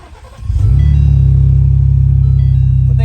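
A Ford Bronco engine fires up and settles into a loud, steady, close rumble as the vehicle is moved, with a deep low hum holding throughout.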